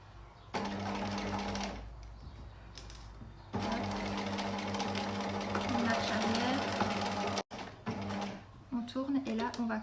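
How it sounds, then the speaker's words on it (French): A sewing machine stitches a cotton face mask, whirring in steady close runs that stop and restart. A voice talks briefly near the end. "on va coudre jusqu'à l'épingle ici"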